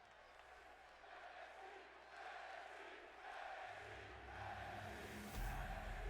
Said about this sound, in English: The crowd is rowdy here.